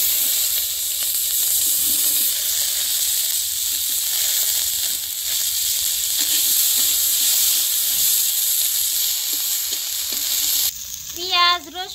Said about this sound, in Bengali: পেঁয়াজ, রসুন, আদা আমি হালকা করে ভেজে নিছি